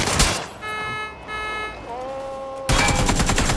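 Rapid bursts of gunfire in the video game PUBG crackle at the start and again near the end, sounding close and sharp, with steady electronic tones from the game in between.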